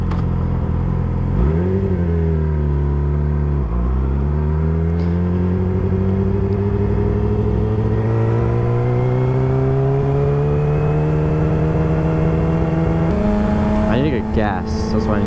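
A motorcycle engine drones steadily and loudly while riding, its pitch climbing gradually through gear shifts, with wind noise throughout.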